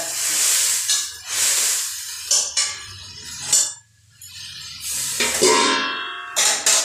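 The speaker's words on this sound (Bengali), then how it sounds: "এবারে পরিমাণ মতন জল দিয়ে দিলাম।" Water poured into a hot pan of cooked spices hisses loudly in repeated bursts, with the clink of pots and utensils between the surges.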